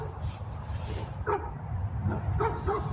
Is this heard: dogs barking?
yes